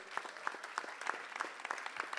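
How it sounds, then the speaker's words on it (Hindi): Applause from an audience in a hall at a cultural arts evening as a guest is honoured, a fairly quiet, steady run of distinct claps with a regular rhythm throughout. "यहां पर सम्मान की तालियां गूंजनी चाहिए इस हॉल में।"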